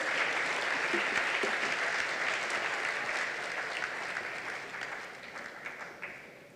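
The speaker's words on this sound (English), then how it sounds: "Can we just have another round of applause for Dr. Denzil Street, please?" Audience applause at a Doctors For a Cause 2024 event: sustained, dense clapping from a sizable crowd, steady and loud throughout, tapering only slightly toward the end.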